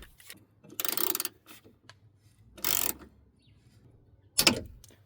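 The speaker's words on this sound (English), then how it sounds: "you guys shouldn't be using an impact to put the screw back in there." An impact driver drives a door speaker screw back in on a Hummer H3, sounding as three separate loud whirring, hammering bursts with quiet gaps between them, close by.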